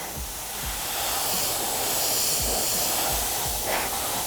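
Airbrush spray paint hisses steadily and continuously, a close broadband spray with slight surges and no voices over it.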